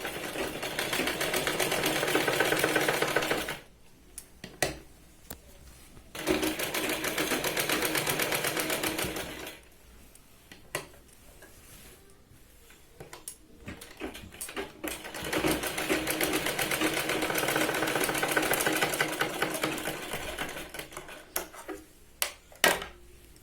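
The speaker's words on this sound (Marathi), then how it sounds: "दोन ते तीन वेळा आपण इथे शिलाई लावणार आहोत शोल्डरला" A sewing machine stitches the shoulder seam of a child's sherwani, running in long, steady stretches of fast, close clatter broken by brief stops and a few sharp clicks.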